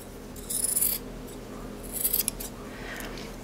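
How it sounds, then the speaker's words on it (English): Scissors snip through fabric a quarter inch outside a traced line while sewing a small plush penguin, two close, crisp bursts of cutting with a brief pause between. "I'm just gonna go ahead and trim a quarter inch from the line that I traced."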